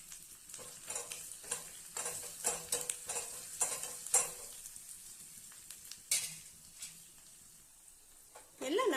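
Curry leaves and a pinch of asafoetida crackle and fry in ghee for little millet pongal, a steady close sizzle broken by stirring scrapes and bursts of spattering, with a louder surge at the very end.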